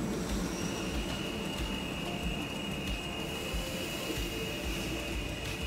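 Trains pass each other in the railway simulation game Transport Fever 2, a continuous rolling rumble of wheels on track with a thin, sustained high squeal, with no talk over it.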